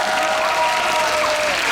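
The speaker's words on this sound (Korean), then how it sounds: "박수로 맞이해 주세요." An audience at a Korean anti-Japanese resistance commemorative concert at a girls' high school applauds to welcome a speaker, a steady wash of many hands clapping throughout under a faint sustained tone.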